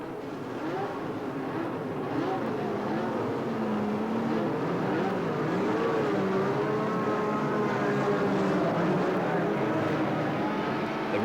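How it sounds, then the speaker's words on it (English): Several 1982 Formula 1 turbo and non-turbo race car engines drone and rev together at a Grand Prix warm-up, a dense, steady roar with shifting pitches that holds loud throughout. "So the engines came to life,"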